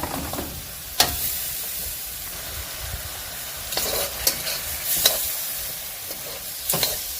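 Stir-fried scallops being scooped from a pan, a soft continuous sizzle broken by several sharp spoon scrapes and clinks against the metal, close by, with no talking.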